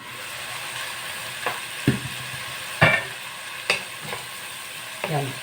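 Water spinach (kangkong) stalks fry in a pan with a steady sizzle, broken by several scraping stirs of a utensil at irregular intervals.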